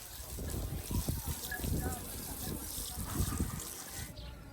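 Water is splashed onto a house floor before sweeping, making soft, uneven splashes and trickles at a moderate distance. Voices and household noise run underneath.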